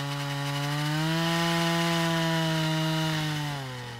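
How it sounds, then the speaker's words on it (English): Water-cooled drill boring into rock of the Palisades for a core sample, a steady, strongly pitched motor whine that holds level for several seconds and then drops slightly in pitch and fades, with no talk over it. "they bore into the rock with a water-cooled drill"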